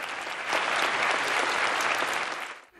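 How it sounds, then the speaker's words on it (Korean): A crowd at the Oscars ceremony bursts into loud, sustained applause, dense clapping swelling quickly and holding steady before tapering off at the end. "박수갈채가 쏟아집니다."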